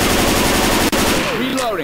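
Rapid automatic M16 rifle fire in Left 4 Dead 2 during a versus survival match at the Bus Depot, a loud continuous burst that cuts off sharply, followed by fainter game sounds.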